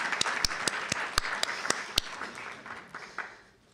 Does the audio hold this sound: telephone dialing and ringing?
no